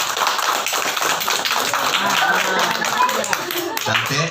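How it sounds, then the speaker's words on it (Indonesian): Guests at a child's birthday celebration clap together in dense, lively applause, close and loud for several seconds, with voices mixed into the clapping. "tepuk tangan dulu."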